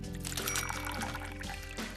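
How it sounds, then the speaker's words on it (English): About a cup of fresh water is poured over raw cashews, a steady, close splashing trickle that runs for the full two seconds at low volume. "So I'll pour that in."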